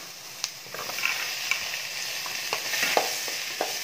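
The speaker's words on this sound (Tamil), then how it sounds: "இப்போ நம்ம இதில் தக்காளி சேர்த்துடலாம்." Onions and tomatoes sauté with salt in a pan, a steady sizzle broken by soft scraping and tapping as they are stirred, with no talk.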